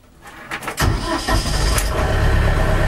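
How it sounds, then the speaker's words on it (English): An LS XU5055C tractor engine cranks briefly with a few uneven pulses, catches, and settles into a steady, fairly loud idle, heard from inside the cab with the heater on. "See, it starts right up."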